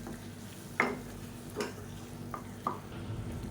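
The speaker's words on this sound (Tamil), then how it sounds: "இப்போ இந்த பேஸ்ட்டை சேர்த்து நல்லா வதக்கி விட்டுக்கலாம்" Ground coconut paste with tomato being sautéed in a pan for a South Indian chutney, a soft sizzle under a few separate scraping stirs of a spoon against the pan, with no talking.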